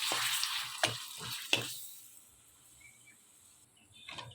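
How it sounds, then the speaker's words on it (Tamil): Oil sizzling and crackling in a pan as tamarind fries, with a few sharp stirring clacks early on, then a quieter steady hiss. "இப்போ புளியை போட்டு பொரித்து எடுத்துக்கலாம்."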